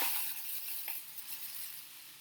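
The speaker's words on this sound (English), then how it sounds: "we are going to put some rice in" Dry rice pours into a homemade rain stick, giving a faint, continuous hiss of grains that runs steadily for a couple of seconds.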